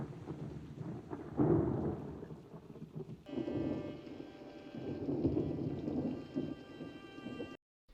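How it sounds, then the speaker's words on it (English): Thunder rumbles outside during a rainy night scene in Barry Lyndon, with two deep rolling swells over steady rain, the second joined by a thin high tone, fairly quiet and distant, then cutting off abruptly. "thunder can be heard outside"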